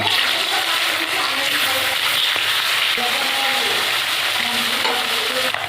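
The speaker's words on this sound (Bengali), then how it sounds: "মাছ আমি ভেজে নেব।" Rohu fish pieces coated in salt and turmeric frying in hot oil in a wok, a steady dense sizzle and crackle running the whole time without pause, close and fairly loud, with no voices.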